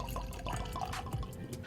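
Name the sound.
pouring Clermont Steep American single malt whiskey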